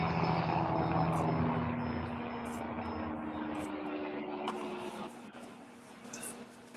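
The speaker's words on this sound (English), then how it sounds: "I got a fucking cocksucking helicopter coming my way" A helicopter passes overhead, its steady broadband rotor and engine drone fairly loud at first and easing slightly as it moves on, with no speech over it.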